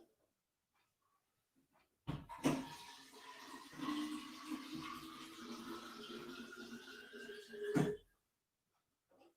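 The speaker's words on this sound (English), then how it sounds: "So I'm going to fill this up with water." Water running from a tap into a plastic carbonator bottle, a steady gurgling pour lasting several seconds with a rising fill tone, starting and stopping abruptly in a quiet room.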